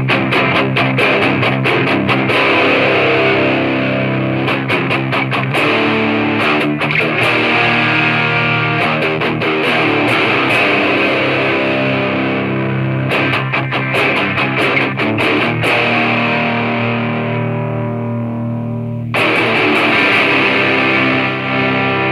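Electric guitar played through a DOD Boneshaker distortion pedal with the gain pushed high, thick fuzzy chords and riffs with short pauses between phrases, loud and close with no talking.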